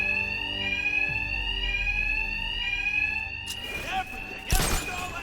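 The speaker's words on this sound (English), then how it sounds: "My attacks will be covered by the noise of the alarm." A loud, continuous alarm rings steadily in Batman: Arkham Knight, its tone holding throughout, joined near the end by scuffling impacts and a sharp burst of noise.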